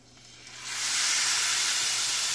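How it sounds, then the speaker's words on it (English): Beef ribs hit a hot cast iron skillet meat side down and a sizzle swells within the first second, then holds as a loud, steady, bright searing hiss. "We're going to throw them in the skillet over here, cast iron skillet. We're going to go meat side down. We're going to let it sear real good"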